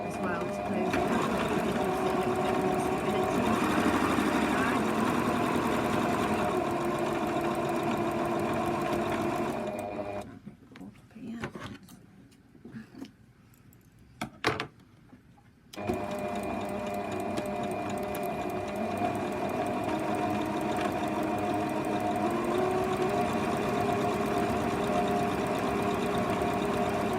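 A sewing machine stitches straight across the bottom of a fabric tote bag in a steady, continuous hum, pausing briefly midway before resuming; a voice talks over it.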